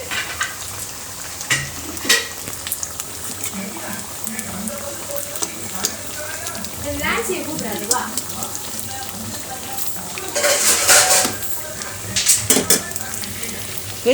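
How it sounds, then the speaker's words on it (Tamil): Sago vada deep-frying in oil, a continuous bubbling sizzle with clinks of a spoon or pan and brief louder bursts of hissing; a person speaks over it. "பாருங்க ஜவ்வரிசி வடை வெந்து ரெடியாக இருக்குது சூப்பராக இன்னும் கொஞ்சம் வந்துட்டுருக்கு"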